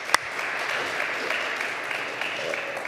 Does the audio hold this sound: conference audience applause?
yes